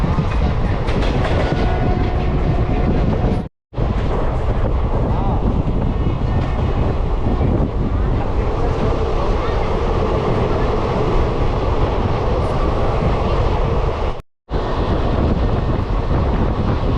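Train rolling along rails on a long-distance journey from Vijayawada to Jaipur, a steady loud rumble with clickety-clack of the wagons and some wind buffeting, continuous apart from two brief cuts.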